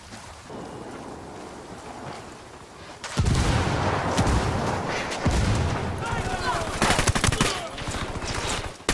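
Heavy gunfire in Ghost Recon Wildlands as El Emisario's men attack: a quieter stretch of about three seconds, then dense, loud, sustained volleys of shots that continue to the end.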